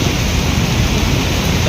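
Heavy rain pours down steadily under a bridge, a loud, dense, continuous broadband roar of water that fills the whole stretch without a break.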